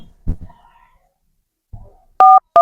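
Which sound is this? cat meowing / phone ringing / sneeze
phone ringing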